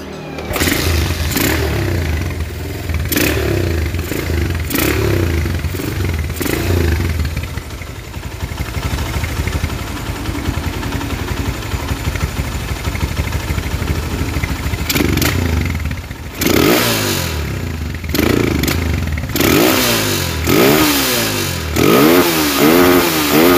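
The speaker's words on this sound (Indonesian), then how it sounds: "Dan oke, sekarang mesin kita coba nyalakan ya" Honda GL motorcycle with a short-breathing, hard-to-tune carburetor starts and runs, idling loudly up close with a steady rumble, then revving in repeated sharp bursts toward the end.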